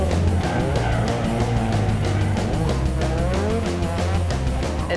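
A loud drift car's engine screams at high revs with tyres squealing and skidding, a continuous close, aggressive roar with rising and falling pitch.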